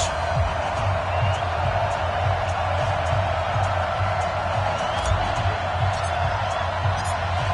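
A stadium crowd in an EA Sports NFL video game matchup between the Oakland Raiders and Denver Broncos gives a constant loud roar with scattered cheers and whoops.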